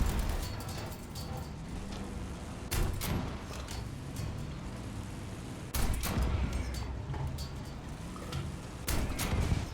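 Gunfire in War Thunder, with a Churchill Mk.1 tank and Spitfire IIB in play, firing to suppress: dense, continuous battle noise with louder bursts recurring every few seconds, with someone talking over it.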